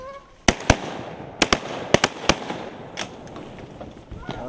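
Shotguns fire at ducks during a waterfowl hunt in a quick, irregular volley of sharp, close blasts, roughly a dozen shots over a few seconds, with hunters' voices around them.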